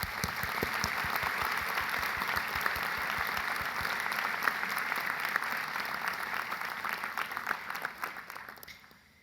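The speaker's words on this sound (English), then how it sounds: "I want everybody to give a round of applause for all of you being here today" An audience at a National Model UN Conference keynote breaks into sustained applause, dense clapping from a large crowd that holds steady before tapering off at the end.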